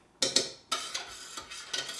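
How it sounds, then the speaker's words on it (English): A utensil stirring a ketchup and hot sauce mixture for hot wings, several close, sharp scraping strokes against the bowl in an uneven rhythm, fairly quiet, no talking. "And we're going to take and stir this up."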